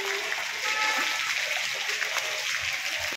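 Water splashing and sloshing across a flooded street in Delhi during rain, a steady broadband wash lasting a few seconds without a break, fairly close.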